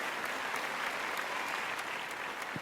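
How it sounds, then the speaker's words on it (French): An indoor audience at a nature-park botany and mountain-refuge discussion applauds in a steady, even wash of clapping, moderately loud and unbroken throughout. "On peut les applaudir pour les remercier d'être là avec nous"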